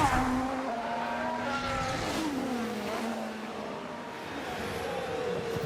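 A Formula 1 car in the F1 Manager 24 racing game, on track at a China Grand Prix sprint weekend, whines at moderate volume with engine pitch climbing through gear changes, brief downshifts and a faint tire squeal.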